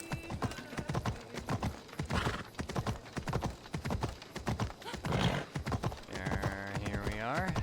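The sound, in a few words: horse hooves clip-clopping while riding, from video game Assassin's Creed Odyssey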